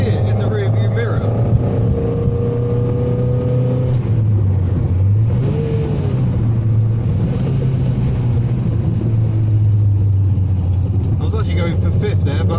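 A Matra Murena's engine while driving, a loud continuous mid-pitched drone that rises and falls with gear changes, while occasional speech sits under the engine noise.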